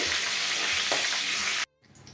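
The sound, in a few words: crushed garlic and curry leaves frying in oil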